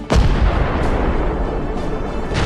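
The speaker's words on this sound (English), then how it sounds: "A massive explosion." A massive explosion from a tank struck by a drone booms loudly at the start, then a dense roaring rumble of debris and blast echo continues to the end.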